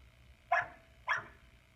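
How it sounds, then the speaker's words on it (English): Two short dog barks about half a second apart, somewhat distant and muffled, against quiet background. "Sorry, that was my dog."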